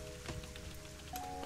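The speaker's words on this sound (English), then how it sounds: "And it's raining like anything now, isn't it?" Steady rain in the zoo-building video game Planet Zoo, a soft continuous patter on surfaces with faint tonal game ambience running underneath.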